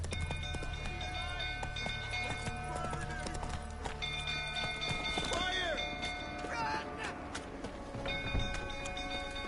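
Roach, the horse from the video game Witcher 3, gallops with steady clip-clop hoofbeats under a layer of game music and ambience, with a possible whinny, fairly close and moderately loud.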